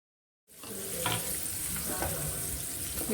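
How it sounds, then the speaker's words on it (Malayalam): Finely chopped onions hit a hot pan for shakshuka after a brief silence, then sizzle and fry steadily and close up, with occasional stirring scrapes and no talk. "ഇപ്പോൾ ഞാൻ ചെറുതായിട്ട് അരിഞ്ഞ് വെച്ച് ഉള്ളി ഇടുകയാണ്."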